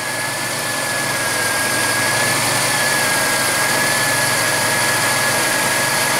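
A car engine idles steadily with a broad, constant rumble and a faint high whine, running loud and continuous throughout with no talk over it.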